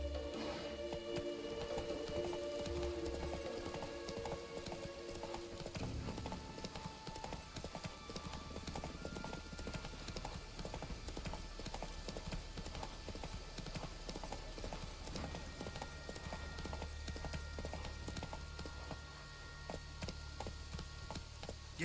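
Horse hooves clip-clop steadily at a gallop throughout, with a brief whinny near the start, from Roach the horse in The Witcher 3 video game; continuous and fairly loud with game ambience underneath.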